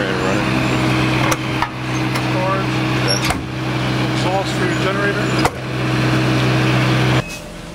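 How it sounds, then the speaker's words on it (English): A generator on an RV runs with a steady low hum throughout, close by, broken by a few sharp knocks and clunks, with a person talking over it. "That's the generator running."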